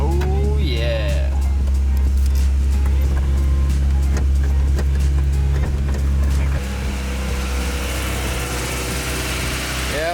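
A Honda Prelude VTEC engine running steadily at idle, a loud continuous low hum with harmonic drone, heard close up while voices talk and cheer over it.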